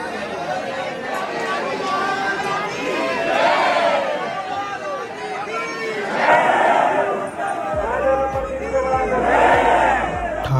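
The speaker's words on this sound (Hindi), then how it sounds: "राधे राधे का जयकारा लगाते हुए सभी भक्त बांके बिहारी मंदिर के अंदर एंटर होते हैं।" Large crowd of devotees chanting and shouting Radhe Radhe in unison at Banke Bihari temple in Vrindavan, loud rhythmic group cries swelling in waves over dense crowd babble.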